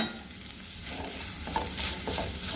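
Kashmiri red chilli powder and spices are stirred into sizzling beef chilli in a pan, with soft scraping strokes over a steady frying hiss.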